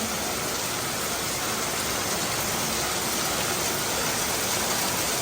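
Heavy rain falls in Vientiane, a dense, unbroken hiss of water that stays loud and even throughout, with no voices over it.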